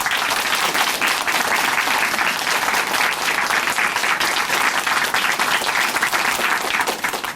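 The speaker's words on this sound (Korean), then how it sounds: "정말 다시 한번 응원의 박수 보내드리겠습니다" A studio audience at a Korean Christian television program breaks into sustained applause, dense and loud from start to finish, with no talking over it.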